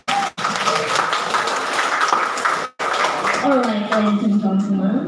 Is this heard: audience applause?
yes